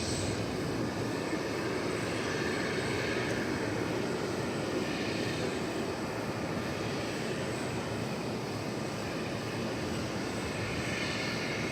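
A UPS aircraft takes off on runway 18 left at DFW Airport, a steady broadband jet roar heard from a distance that holds constant and fills the scene without any voices.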